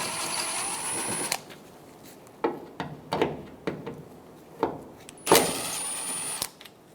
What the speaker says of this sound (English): Using a T15 bit, we're going to remove the 2 screws for the tail light.